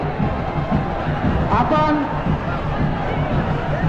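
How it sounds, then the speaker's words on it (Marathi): Huge crowd of pilgrims packed at a hilltop fort during a palkhi procession, a dense continuous babble of many voices with a loudspeaker announcement over it. "गडावर प्रचंड गर्दी झालेली आहे"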